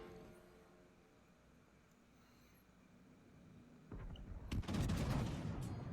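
Heavy naval guns of the Italian battleship RN Roma fire in World of Warships: Legends, arriving as a loud burst of booming blasts after about four seconds of quiet ambient rumble, then rolling on in dense repeated reports.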